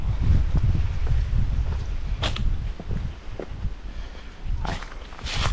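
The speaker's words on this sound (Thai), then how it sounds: "ลมแรงนะครับช่วงนี้" Strong wind gusts rushing past the microphone on a dry forested mountainside, a steady low roar with louder buffeting bursts and faint rustling of leaves and footsteps.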